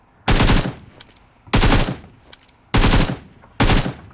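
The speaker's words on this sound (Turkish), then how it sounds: "Uzaktayken arkadaşlar bakın böyle sıkacaksınız AKM'ye" AKM assault rifle in PUBG Mobile fires four short, loud bursts of rapid automatic gunfire, evenly spaced with brief pauses between them.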